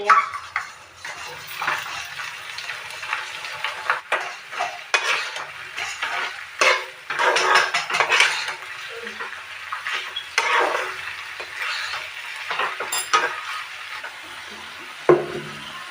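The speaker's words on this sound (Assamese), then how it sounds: "এতিয়া মই গাহৰি পেটুখিনি এড কৰিম" Pork innards are stir-fried in a kadai with loud sizzling, broken by frequent metal spatula scrapes and clatters against the pan, ending in a sharp knock. No voices.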